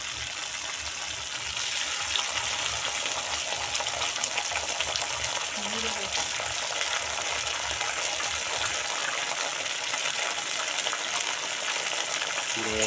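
Green chilli and ginger paste fries in hot oil, a loud continuous sizzle close by, with occasional stirring scrapes and a faint murmur of voice.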